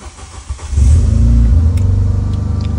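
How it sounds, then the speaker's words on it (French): A Renault Mégane 2 RS engine cranks briefly, then catches at about the one-second mark and settles into a loud, steady idle close by. "maintenant, si j'essaye de démarrer"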